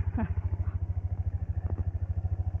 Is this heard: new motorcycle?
yes